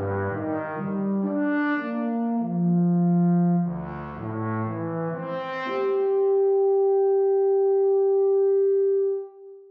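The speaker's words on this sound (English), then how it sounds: "Legato sounds like this for the Wagner tuba." Wagner tuba playing a legato phrase from the VSL Synchron sample library, smooth connected notes gliding through a wide range before settling on a long sustained tone that fades out, heard alone.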